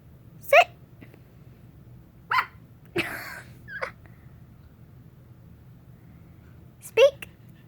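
A puppy barks on command indoors: a few short, sharp yaps spaced seconds apart, between moments of people talking.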